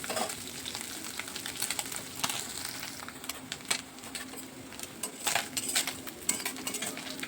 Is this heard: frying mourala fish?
yes